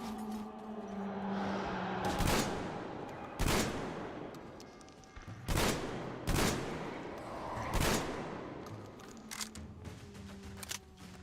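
Shotgun fire in the Metro Exodus video game, five loud blasts at irregular intervals over a few seconds, each a sharp broadband crack with a short tail, set over a steady background hum.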